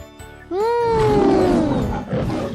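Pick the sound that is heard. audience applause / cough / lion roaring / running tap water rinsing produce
lion roaring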